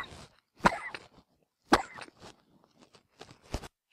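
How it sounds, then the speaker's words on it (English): Several sharp coughs in quick succession, close and dry, with short pauses and faint breathy sounds between them. "Sorry about that, I'm coughing."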